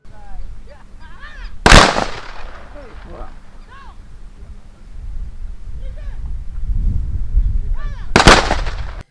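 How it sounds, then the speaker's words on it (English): Two sharp, loud ceremonial gunshots fired into the sky by officers at a funeral crack several seconds apart outdoors, with birds chirping and faint murmuring voices in between. "officers fired ceremonial gunshots into the sky in a final act of honor"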